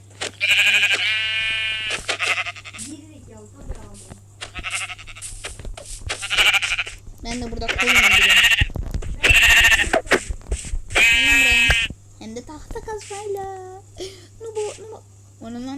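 Sheep bleating repeatedly in a video game, several loud wavering bleats over about sixteen seconds while people talk in between and over them.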